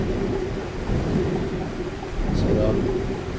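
Thunderstorm on an island in the survival game Stranded Deep, a continuous low rumble with steady rain hiss filling the whole moment, loud and unbroken.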